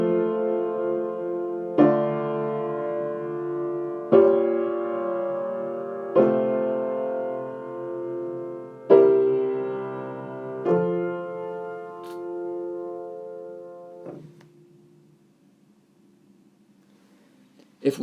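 A short musical phrase showing a borrowed chord from modal mixture, played as about seven sustained piano chords in slow succession, each struck clearly and left to ring before a final softer, quieter sound.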